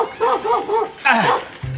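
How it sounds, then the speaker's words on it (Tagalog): A dog barks repeatedly at close range while chasing people at a campsite in Candelaria, Zambales, giving quick rising yelps in an uneven rhythm, with a voice briefly audible underneath. "Ba, hinahagad tayo ng aso."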